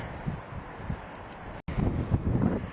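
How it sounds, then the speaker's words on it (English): Wind gusting on the mountain summit of Yr Ole Wen, buffeting the microphone as a steady close rumble that briefly cuts out and then returns stronger and rougher, with no talking. "Bit breezy, but it's not too bad."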